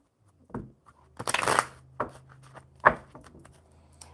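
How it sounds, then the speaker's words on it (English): A deck of cards is shuffled during a live coffee-and-cards session. Several separate papery riffles and snaps come in short bursts with quiet gaps between them. "One more good shuffle."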